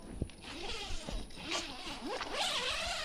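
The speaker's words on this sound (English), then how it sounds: "And it zips up." A zipper is pulled closed along a white fabric mosquito chamber, giving a series of quick, close ripping zips of varying length with soft fabric rustle between them.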